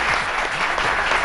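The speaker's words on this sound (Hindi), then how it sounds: "शक अमानत के लिए एक दफा तालियां होनी चाहिए।" Studio audience applause on a Pakistani TV lounge show, after a singer's performance: dense, steady clapping that fills the short stretch with no voices heard.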